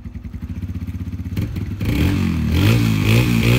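A Honda CRF300L dirt bike engine cranks in a steady pulsing rhythm, catches on the first try, and settles into a loud, close, rumbling idle with slight revving and no talk.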